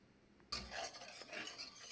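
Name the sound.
stirring salt and black pepper into a roux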